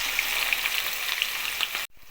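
Onion pieces sizzle in hot oil over mustard, cumin and tempering seeds for a bitter gourd fry: a steady, close crackling hiss with small pops, cut off abruptly near the end.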